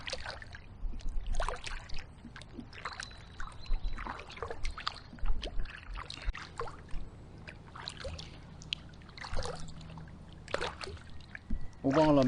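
Kayak paddling on the Basingstoke Canal, a repeated rhythm of soft water splashes and drips from the paddle strokes, close and moderate in level, with intermittent birdsong and someone speaking over parts of it.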